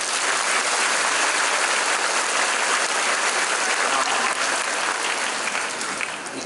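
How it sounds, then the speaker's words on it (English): Sustained applause from a church audience during a priest's farewell at the Church of The Divine Mercy in Shah Alam, dense steady clapping filling the room and tapering slightly at the end. "Can we give her a round of applause?"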